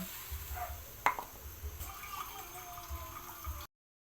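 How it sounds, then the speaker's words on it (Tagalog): Water poured into a cooking pan to make broth for a sautéed bottle gourd and chicken dish, a soft steady splashing and trickle with one sharper splash early on, then cutting off. "lagyan na natin ng sabaw. Yan, yung tubig."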